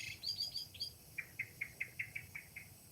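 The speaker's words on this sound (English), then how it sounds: "blackbird's the first one to start out here. About 3 in the morning" Blackbird singing outside a tent around three in the morning before dawn, a series of faint, high, evenly spaced chirping notes in a quiet setting, more distant than near.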